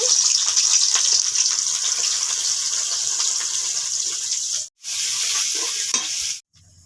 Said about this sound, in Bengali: পেঁয়াজটাকে ভালো করে মেরে নিয়েছি